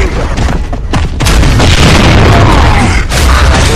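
Grenade blast in the Gears of War 3 video game during a team deathmatch, a loud booming burst amid continuous gunfire and dense battle noise, with no clear talk over it.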